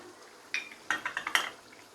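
Chicken karahi ingredients are stirred in a metal pan, a quick series of sharp scraping clinks from the spoon, about six close strikes in a short burst after a moment of quiet.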